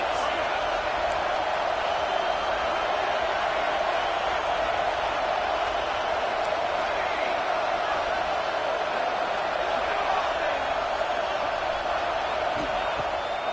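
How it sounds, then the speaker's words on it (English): Steady roar of a football stadium crowd at a Virginia Tech versus Nebraska game, a dense continuous wash of cheering and noise filling the whole stretch without letup. "This crowd trying to make life miserable for this offense."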